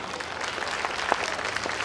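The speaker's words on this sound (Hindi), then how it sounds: "और एक बार सारे प्रोजेक्ट के लिए खुले हाथ से ताली होनी चाहिए।" An audience at a school foundation day event applauds student projects, a steady patter of many clapping hands heard from a middle distance, with no speech.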